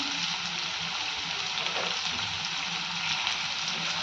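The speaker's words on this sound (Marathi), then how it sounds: "खूप सारा कांदा आता व्यवस्थित एकदम गोल्डन ब्राऊन रंग येईपर्यंत भाजून घेऊयात" Plenty of onions frying in a pan until golden brown for akkha masoor, giving a steady, even sizzle that carries on unchanged throughout, close and moderately loud, with no speech.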